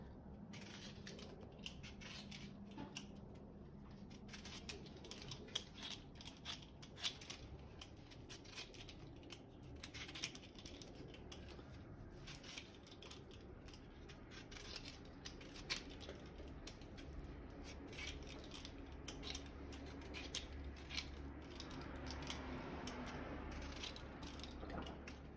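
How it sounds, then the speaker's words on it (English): Turnip being peeled with a hand peeler in a kitchen, giving a steady run of close, quiet scraping strokes over a low background hum, with no talking. "We're gonna peel our turnip as well."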